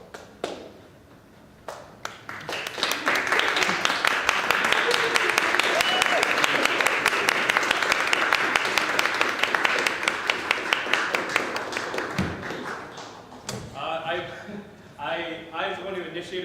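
Audience applause at the Fringe North 2023 live opening ceremony, a dense, sustained wash of clapping that swells early and holds steady, then thins out as voices and a few scattered claps take over near the end.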